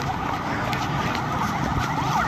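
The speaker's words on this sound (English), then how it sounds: "We're still seeing ambulances approaching." Ambulance sirens wail in overlapping rising and falling tones amid steady street traffic noise during clashes between government forces and protesters in Nicaragua, fairly loud and continuous with no talk.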